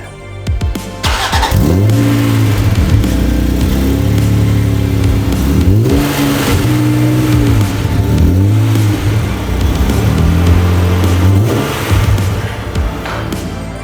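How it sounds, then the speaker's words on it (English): A Honda NSX, a JDM car just restored, runs with its engine revving up and settling in repeated surges, loud and close throughout, with no talk over it. "The NSX is running and driving."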